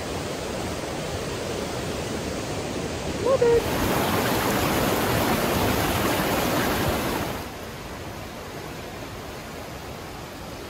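Blackstone River rushing fast through the Blackstone Gorge after rain, near Rolling Dam in Massachusetts, a loud broadband roar of flowing water that swells midway and then settles lower, with a brief spoken remark early on.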